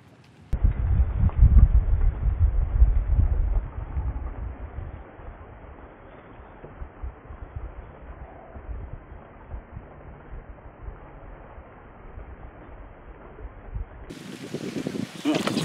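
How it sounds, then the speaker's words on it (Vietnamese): Strong wind buffets a microphone beside a river during fishing, with gusty low rumble and rushing noise that ease off midway and pick up again near the end. "Gió, sóng gió to quá."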